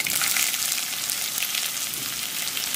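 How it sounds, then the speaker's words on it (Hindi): Hot oil sizzling steadily and loudly with mustard seeds and curry leaves, the moment onion is added, a dense continuous crackle without any voices. "तो यहाँ पर मेरा तेल गर्म हो गया है, अब मैं डालूंगी इसमें थोड़ी सी राई, थोड़ा कड़ी पत्ता।"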